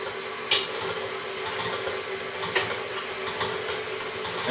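An electric mixer whirs steadily while beating buttercream with vanilla, a constant mid-level motor hum with a few brief scraping knocks against the bowl, no talking.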